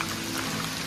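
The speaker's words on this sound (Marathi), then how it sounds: "त्यात पाऊस" Steady rain falls through a dense forest on a wet trek, a continuous close hiss of drops pattering on leaves and ground with no talk.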